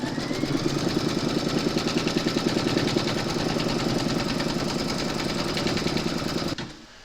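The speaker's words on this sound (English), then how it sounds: "Pop your hoop into your machine and stitch round number 2 to secure it" An embroidery machine stitches an appliqué placement outline for a large koala design, a steady rapid mechanical whirring and clatter heard close up and continuously, with no talk, stopping abruptly just before the end.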